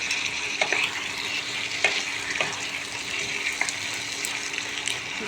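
Chicken tossed into a pan of reddened, browned chopped onions, sizzling steadily up close with scattered clinks and scrapes of stirring, no talk.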